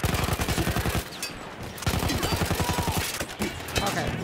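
Mounted machine gun fire in Battlefield 1, in rapid bursts of loud, evenly spaced shots broken by short pauses, with scattered distant gunfire and battle noise between them.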